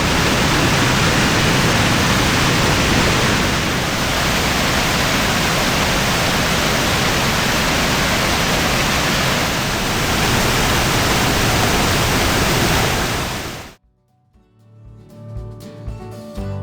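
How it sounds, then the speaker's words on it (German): Small waterfalls along the Gertelbach trail in the Northern Black Forest roar as a dense, steady rush of falling water, loud and close, cutting off abruptly near the end to quieter background sounds. "Auch wenn die Wasserfälle eher kleindimensioniert sind, Krach machen sie auf jeden Fall wie die großen."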